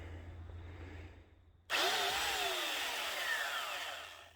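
A belt sander starts abruptly and grinds wood down to a marker line, a loud sustained whirring rasp that follows a quieter stretch, no talk.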